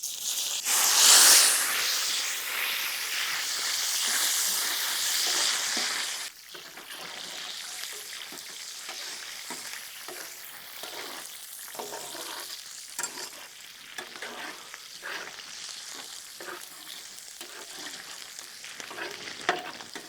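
Finely chopped ginger and garlic drop into hot oil with a loud burst of sizzling that eases after several seconds into a gentler fry with repeated spatula scrapes, close and without talk.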